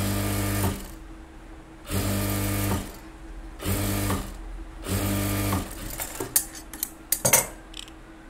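A tailor's sewing machine runs a rough basting stitch along a blouse sleeve, whirring in four separate steady bursts with pauses between, followed by scattered clicks and clatters of handling.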